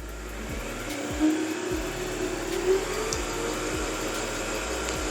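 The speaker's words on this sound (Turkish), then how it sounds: "Masurayı sarmaya pedala basarak başlayabilirsiniz." A Moonstar 990P household sewing machine winds its bobbin with a steady, close motor whir that holds evenly throughout, with faint regular ticking underneath and no voices.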